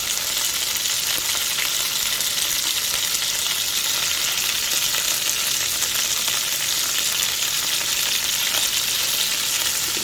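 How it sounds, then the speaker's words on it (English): Beef stew meat searing in a frying pan with steady, loud sizzling and fat popping throughout, continuous and close with no talk. "That fat is popping."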